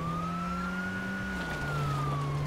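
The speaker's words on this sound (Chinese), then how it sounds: "亮个警笛。" A police car siren in GTA 5 wails steadily and loud over a running engine, its tone sliding slowly up and down without a break.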